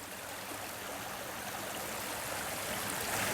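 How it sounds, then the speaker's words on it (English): Frog Creek runs strong and full with snowmelt, a dense, steady rush of flowing water heard close by with no voices. "Frog Creek is flowing pretty strongly now because of the melting snow"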